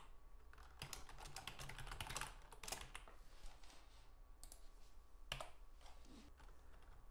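Quiet, rapid keystrokes on a computer keyboard as code is typed, irregular clusters of clicks with brief pauses, close but soft and with no talking.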